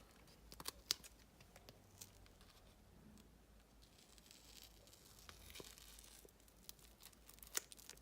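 Very sticky adhesive tape being torn and handled while making a scrapbook album cover, with faint, sporadic ripping and crinkling sounds and a few sharp snaps, heard close and quiet with no talking.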